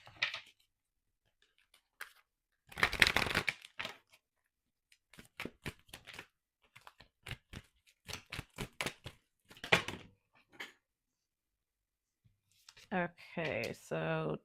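Psychic Tarot cards handled close up in a quiet room, a series of sharp separate snaps and flicks with one longer riffle, ending in short bursts that sound like speech.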